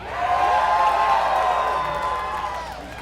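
A crowd of Longhorn fans cheers and whoops at a live University of Texas Austin versus UC Irvine match in the Lone Star Clash, a sustained loud roar that swells early then slowly fades.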